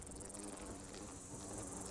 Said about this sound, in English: God, that buzzing is irritating as hell. I do not like giant mosquito bug things.